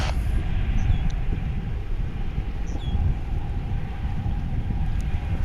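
A steady, loud Airbus A220 jet engine groan with deep low rumble, continuous throughout, as the airliner sits nearby on the ground at Dallas/Fort Worth International Airport.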